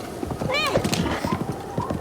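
Rapid hoofbeats of a galloping horse in the Zelda Breath of the Wild video game, with a brief whinny early on and someone talking over the clip-clop.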